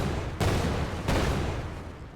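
Two heavy, booming blasts from gunfire or grenades in a third-person shooter video game, each a sudden loud hit followed by a dense, sustained rumble.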